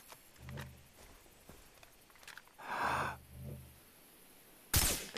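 A tiger in the video game Far Cry 3 gives a few low growls and breathy roars at moderate volume, ending in a sudden loud burst, with no talk.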